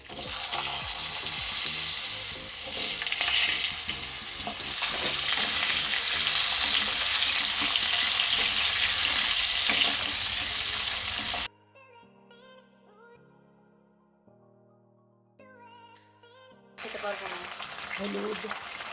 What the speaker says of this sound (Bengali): এবার তেলে ফোড়নে দেবো জিরে, লম্বা লম্বা করে কেটে রাখা আলু